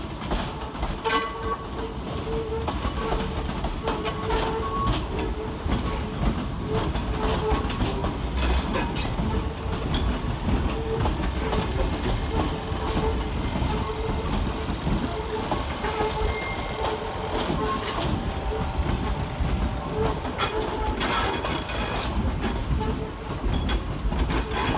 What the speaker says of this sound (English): Next out to depart is 320-314 and 320-411 with the 1420 ScotRail service to Motherwell via Pollock Shields